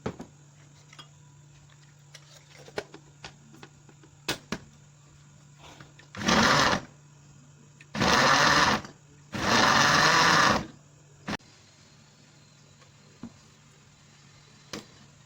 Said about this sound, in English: at this point I'm going to blend my cocoyam.